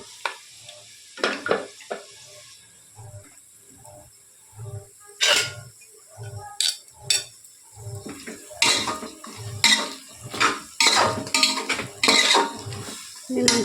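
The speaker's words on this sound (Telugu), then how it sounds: "ఇప్పుడు ఒకసారి దీన్ని కలుపుకుందాం మనం" A spoon stirs ivy gourd pulao in a metal pot with a steady scraping rhythm, clinking against the sides over a faint sizzle, close and clear.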